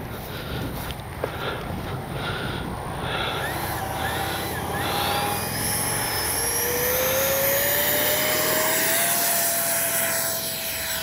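A Freewing 70mm F9F-5 Panther RC jet takes off with a steady, loud ducted-fan whine that climbs in pitch and holds close to the microphone throughout.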